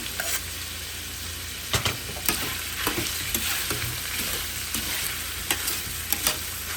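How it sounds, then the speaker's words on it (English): Onions sizzle in a pan of browned pork for adobo, a steady loud fry with intermittent stirring scrapes and clatters, no voices. "right now I'm gonna add some onions because I browned it a little"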